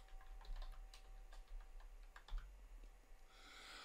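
Quiet typing on a computer keyboard while working in FreeCAD: a short run of light, irregular key taps, close and faint, with no voice.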